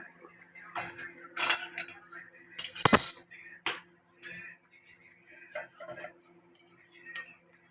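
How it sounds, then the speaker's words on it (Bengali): Metal cooking pot of rohu fish with spinach being lifted off the stove, with a few sharp clanks and clinks of pot and utensils, close and separate, under a quiet background hum. "এবার নামিয়ে ফেলছি দেখো"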